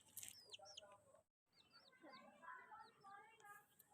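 Chickens clucking and chirping while being fed alongside a rabbit, a steady run of short, close calls with brief pauses between them.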